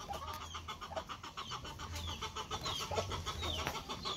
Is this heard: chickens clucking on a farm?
yes